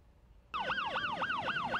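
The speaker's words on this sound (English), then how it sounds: "you get to drive a cop car, sirens and all" A police car siren suddenly starts up and wails in rapid, repeated rising-and-falling sweeps, loud and close.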